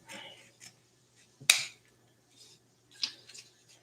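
Scissors cut through paper being made into a bow, giving a few sharp, close snips with short gaps between them. One crisp cut stands out above the rest in a quiet room.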